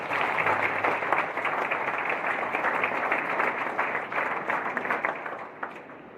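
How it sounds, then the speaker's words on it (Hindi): An audience claps loudly and steadily at a Brahma Kumaris saints' gathering in Meham, with dense applause holding for several seconds before easing off toward the end. "अंतर के श्रद्धा भाव से सबसे पहले उसके सम्मान में सब लोग जोरदार ताली बजाएं।"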